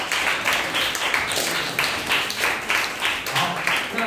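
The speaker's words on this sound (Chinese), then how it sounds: "那我们给这三组一个掌声" A high school classroom applauding student groups after their presentations: steady, dense clapping from many hands throughout, moderately loud and without a clear break.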